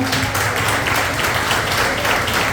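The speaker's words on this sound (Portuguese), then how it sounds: "Por isso, aplaude o Senhor." A church congregation claps together during a worship service, a thick, loud wash of applause with faint music underneath, continuing steadily throughout.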